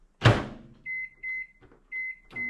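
A microwave oven starts up to heat a shredded chicken taco bowl: a door thuds shut, then a few spaced electronic beeps sound close by in a quiet room.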